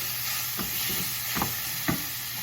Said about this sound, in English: I'm gonna give this a toss.